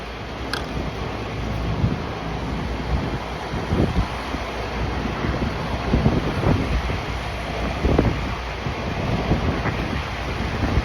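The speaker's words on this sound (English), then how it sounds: "Wind's unbearable. Got my crap flying everywhere." Strong wind buffets a rooftop where AC unit drain traps are being built, a steady close roar of gusts rumbling across the microphone with no letup.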